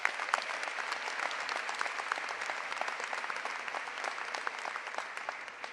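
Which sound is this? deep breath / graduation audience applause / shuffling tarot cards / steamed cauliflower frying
graduation audience applause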